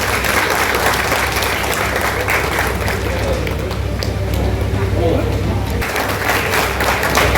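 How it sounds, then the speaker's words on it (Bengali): An audience at a political rally claps and cheers, a dense, loud, continuous roar of applause that runs through the whole stretch. "প্রত্যেকে একটু হাততালি দেবেন"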